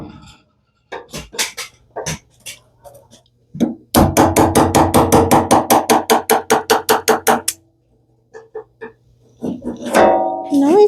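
Metal hammer strikes ring out while working on the engine of a 1971 Volkswagen Super Beetle: a few scattered blows, then a fast, loud run of about twenty evenly spaced hits, then more sporadic taps as a voice speaks at the end.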